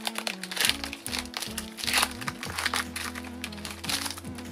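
Trading card booster pack being torn and opened, with crinkling foil, sharp tearing and crackling bursts close by over a faint steady background hum.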